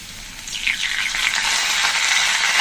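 Spices with green chillies, ginger paste, cumin paste and sour yogurt fry loudly in a pan, a steady close sizzle that swells and holds without a break.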